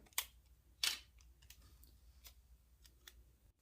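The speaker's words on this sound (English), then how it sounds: "we're going to tape it up." Pieces of glass mirror are bound together with tape: a few sharp tearing rips followed by quiet, intermittent crinkles and taps, close and faint.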